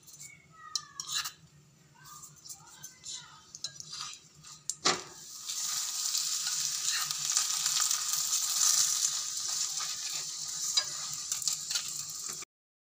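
Aloo matar paratha cooking in mustard oil on a pan, quiet scraping and clinks at first, then a steady sizzling fry that fills the rest of the stretch.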